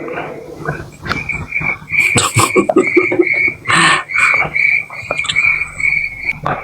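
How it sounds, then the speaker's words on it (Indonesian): A steady high chirping of crickets runs throughout, loud and continuous, with other small clicks and rustles mixed in beneath it and no talking. "Jangkrik."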